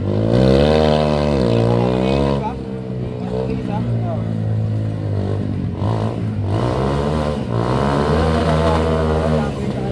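Motorcycle-based tricycle engine revving hard on an off-road challenge course, loud and close, with rising and falling harmonic pitch over ten seconds while people talk and shout nearby.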